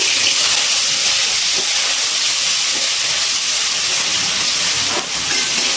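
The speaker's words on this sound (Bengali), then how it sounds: "এবার একটা ছোট সাইজের আলু আমি ছোট করে কেটে নিয়েছি, সেটা তেলে ভেজে নিচ্ছি।" Small chopped potato pieces frying in hot oil after a tempering of spices, a steady broadband hiss and crackle that stays loud and even throughout, with a brief dip near the end and no talking.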